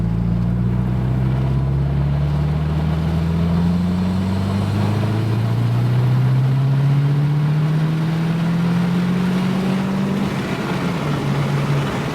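A 2002 Subaru WRX with a new tune accelerating hard, its engine note rising steadily through the revs in a long, loud pull, with a brief dip as it shifts and climbs again.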